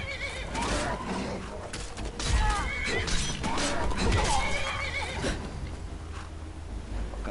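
A horse in the Skyrim video game neighs and whinnies amid combat clatter, crashes and hoof sounds, loud and close, mixed with game noise and brief voices.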